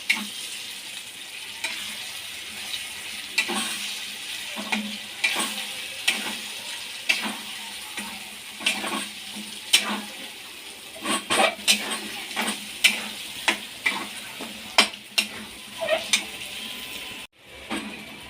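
Egg and rice being stirred and fried together in a pan for homemade egg rice, with a steady sizzle broken by a rapid run of spatula scrapes and taps against the metal, close and prominent.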